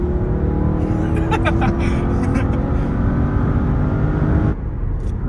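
A 700HP Porsche engine downshifts with a loud, sustained mechanical drone whose tones shift up and down, running steadily before cutting off abruptly near the end.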